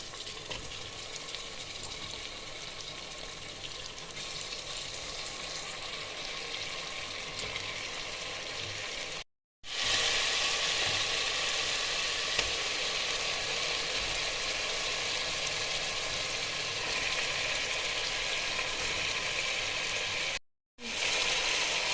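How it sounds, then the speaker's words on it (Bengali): Mutton frying on medium heat for a Bengali doi mutton curry, a steady broadband sizzle running throughout with two brief dropouts, no voices. "মটনটা আমি এবার 5 থেকে 10 মিনিট ভালো করে কষিয়ে নেব মিডিয়াম আঁচে।"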